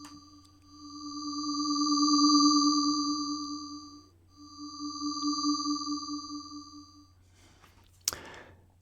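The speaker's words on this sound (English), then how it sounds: "with 3 voices and them detuned, I have a more mysterious sound than with just one" A synthesizer patch with three detuned voices plays two long, eerie sustained tones, each swelling louder and fading away, followed by silence and a single sharp click, with no voice.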